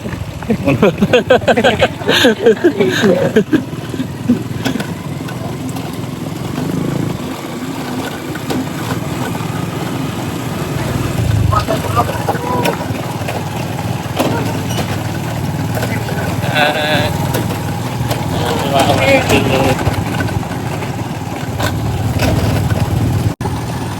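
A boat motor runs steadily through the whole stretch on a bintol fishing trip in the Philippines, a low continuous drone under frequent nearby talk, with some clattering and splashing.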